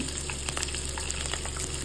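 Tempering spices sizzling in hot oil in a home kitchen, a dense steady crackle with scattered sharp pops, close and continuous over a brief moment.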